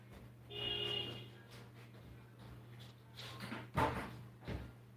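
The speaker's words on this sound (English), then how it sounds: "Let me close the door." A door is pushed shut in a room, a short thud and latch click near the end after some rubbing movement, over a steady low electrical hum.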